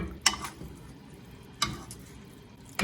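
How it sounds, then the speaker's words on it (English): Diced tomatoes, peel still on, being roughly mashed in a pot for spaghetti bolognese, three sharp, isolated squelching strikes spread over a quiet, low simmer. "I'm just gonna give it a rough kind of mash."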